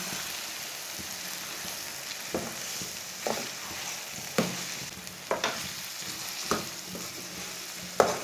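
Egg and green pea curry simmers and sizzles in a pan under a steady hiss, with a spoon knocking and scraping through it in a slow rhythm of about a dozen distinct strokes.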